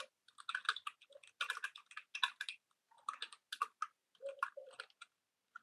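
Typing on a computer keyboard while writing code, in quick irregular bursts of close, crisp key clicks with brief pauses between runs; no voices.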